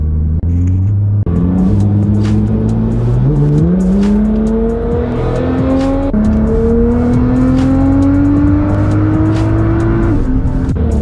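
A loud Nissan GT-R engine revs up and accelerates steadily on a straightaway, its pitch climbing through gear changes in a long continuous pull, close and dominant throughout.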